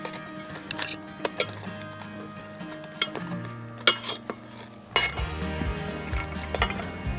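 A knife cuts into a campfire pizza pocket in a pan, with scattered sharp metallic clinks and scrapes, quiet and close, and a louder clatter toward the end.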